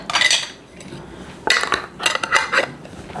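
A lid being set onto a glass jar of preserved strawberries, with clinking and scraping glass-and-metal sounds in two or three close bursts separated by short pauses.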